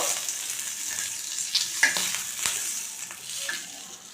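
Green chillies frying in oil in a pan for a village-style chutney, a steady close sizzle with occasional sharper pops and crackles, no voices.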